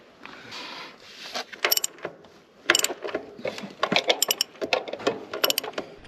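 A torque wrench tightens bolts on the snapped cutter bar of a New Holland H6750 disc mower, giving repeated ratcheting clicks and metallic clatter in uneven bursts, close and fairly loud.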